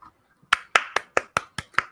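Seven sharp, evenly spaced hand claps from a single person, close and distinct, following a brief soft vocal sound at the start.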